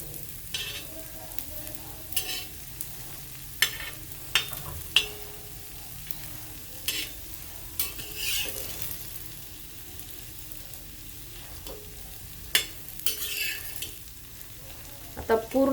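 Potato slices fry in a pan with a little oil for crisp Maharashtrian batatyache kaap, giving a steady low sizzle broken by sharp crackles and scraping stirs throughout, close and alone.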